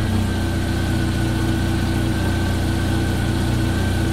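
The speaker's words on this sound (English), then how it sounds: "now the engine's running at 941 like it's supposed to" A Jeep Wrangler TJ engine idles steadily at about 941 RPM after its throttle position sensor was unplugged, a continuous low, even rumble with a faint mechanical whine, close and alone with no talk.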